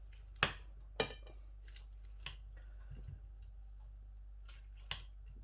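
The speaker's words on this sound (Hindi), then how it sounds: "खुला बर्तन लेकर उसमें तमाम आलू डाल लेने हैं और इस तरीके से उनको क्रश करना है।" Boiled potatoes are crushed in an open bowl for aloo tikki. A few sharp utensil clacks against the bowl ring out, with soft squishing thumps in between, close and otherwise quiet.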